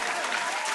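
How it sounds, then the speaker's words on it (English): A comedy livestream audience claps in a brief, dense burst of applause that stays steady throughout. "Jeff, give him a round of applause at home."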